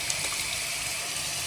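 Water runs from a tap in a continuous, even hiss and trickle in a hospital room as it is prepared for a newborn's first bath.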